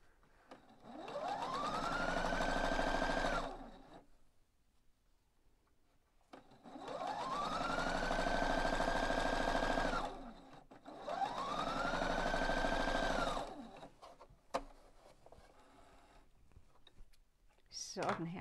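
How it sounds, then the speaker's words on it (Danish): A sewing machine stitches along a cord to make a piping edge, running in three steady whirring bursts of about three seconds each with pauses between, close and loud, the motor winding up and down at each start and stop. "Og så styrer maskinen selv og lægger stikningen helt op af snoren."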